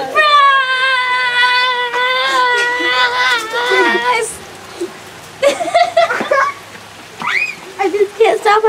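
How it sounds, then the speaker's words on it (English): Rain falls outdoors at a navy homecoming, a steady soft hiss running beneath excited voices, a child's high crying and scattered shouts. "Manny, get out of the rain."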